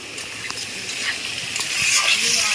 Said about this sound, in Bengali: এখানে রান্না হচ্ছে পুঁটি মাছের তরকারি আলু বেগুন দিয়ে